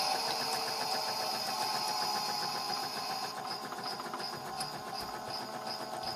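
A Miele W1 toy washing machine by Theo Klein spins with a steady, fast mechanical whir and a rattling hum. The sound stays loud and close throughout and shifts slightly in tone partway through.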